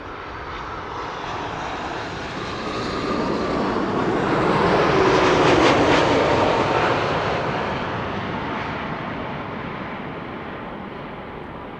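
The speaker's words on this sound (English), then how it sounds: "It's a 787-10 Dreamliner, 6 hours and 25 minutes underway." A Boeing 787-10 Dreamliner arriving at Amsterdam Schiphol on the Kaagbaan after a flight from New York JFK, its jet roar swelling as it passes close overhead, then fading away, loud and uninterrupted by talk.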